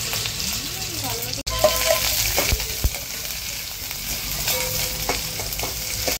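Hing, ginger, garlic, coriander and green chili paste sizzling in a hot pan, a loud continuous crackle with occasional clicks of a utensil against the pan and no talking.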